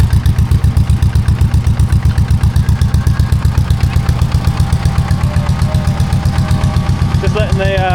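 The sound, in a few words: air compressor running, filling up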